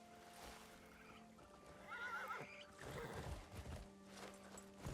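A horse in Crimson Desert lets out a loud whinny with a wavering rise and fall, ringing out near and clear over soft hoof steps and ambient game sounds, with no voices.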